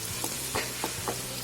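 Ivy gourd (kundru) stir-frying in a kadhai, a steady soft sizzle with several brief scraping stirs of the spoon at an even pace, close up, with no talking.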